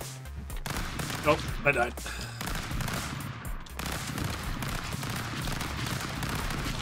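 Rapid gunfire from the video game Stick Fight rattles in bursts beneath excited player talk, fairly low and dense rather than sharp.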